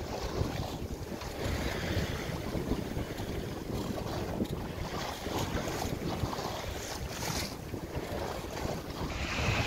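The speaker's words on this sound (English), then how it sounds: "looks like the wind's starting to pick up as well" Wind blowing over the sea heard from a small boat near Burgh Island, a steady roaring rush of wind noise with water washing against the hull, continuous and loud with no talking.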